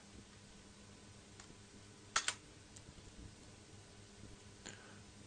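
Soft clicks on a computer keyboard as a command is typed into a console, a few quiet keystrokes with one sharper cluster of taps near the middle over low room hiss.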